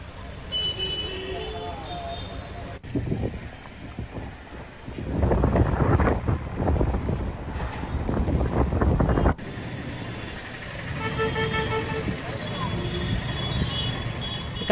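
Strong wind gusts roar and buffet the microphone, surging louder in the middle before easing into a steady rush.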